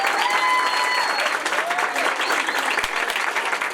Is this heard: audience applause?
yes